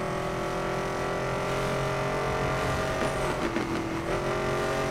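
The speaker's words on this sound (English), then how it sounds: "God, I cannot get over how good this car sounds." A Chevrolet Camaro ZL1 in the racing game Need for Speed: Most Wanted (2012) drones steadily under acceleration, with a brief burst of clatter and a pitch shift near the end.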